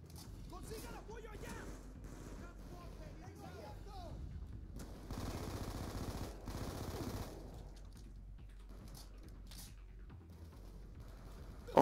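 Gunfire from a weapon in Call of Duty Black Ops II, with repeated shots and bursts over about twelve seconds, heaviest near the middle, mixed with game noise and talk.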